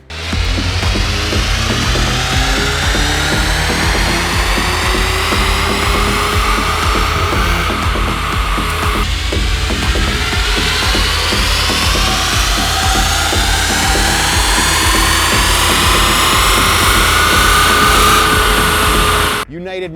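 A VW MK8 GTI with a stage 1 tune on 91 octane runs on a dyno, engine droning loud and steady the whole way with rising pitch sweeps through pulls, close and continuous.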